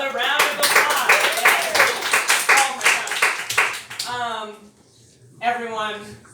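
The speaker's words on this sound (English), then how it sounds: "So give yourselves another round of applause." A stand-up comedy audience on a Sunday morning claps in a short burst, mostly under a speaking voice, followed by a quieter stretch as talk continues.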